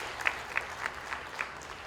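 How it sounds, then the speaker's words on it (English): An audience at an ICPAK Kenya event gives a round of applause for a newly elected council member, with sparse, scattered hand claps that stay fairly faint and thin throughout. "A round of applause for him."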